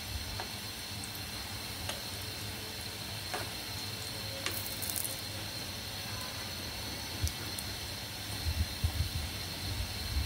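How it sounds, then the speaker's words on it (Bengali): Egg-based snacks deep-fry in white oil over a medium flame, giving a steady, even sizzle with scattered light ticks and pops throughout. No one speaks. "ধৈর্য সহকারে চুলার জালটা মিডিয়ামে রেখে নাস্তাগুলো ভাজতে হবে"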